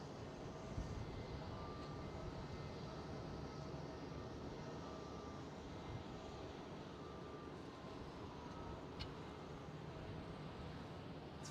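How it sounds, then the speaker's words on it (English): A British Airways A319 taxiing at Schiphol airport, its engines a faint, steady distant rumble and whine that holds level throughout. "And the British Airways A319 taxiing out as well."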